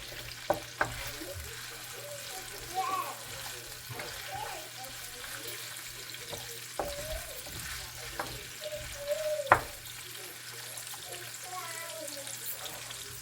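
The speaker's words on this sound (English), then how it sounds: "So I'm gonna let this saute" Peppers sautéing in a pan for a Guyanese dish, a soft steady sizzle with occasional clinks and stirring, low hum underneath and faint background voices now and then.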